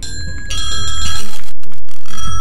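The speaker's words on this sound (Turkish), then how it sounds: "Oha, zili bozdum." A doorbell rings loudly in GTA 5, a bright sustained electronic chime that is close and very loud throughout, with no voices.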